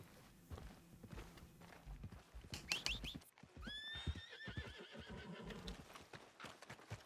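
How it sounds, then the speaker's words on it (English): Horse in the Red Dead Redemption 2 video game gives a loud whinny in the middle, surrounded by clip-clopping hooves walking and trotting close by, with game ambience beneath. "Call my horse to get out of here."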